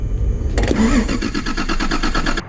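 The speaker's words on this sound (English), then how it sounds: "So I had my nephew turn over the car while I banged on the starter" A 1982 Toyota Celica Supra engine turns over on the starter, a loud close rhythmic cranking that begins abruptly and churns steadily for about two seconds before cutting off, without catching, after a low rumble.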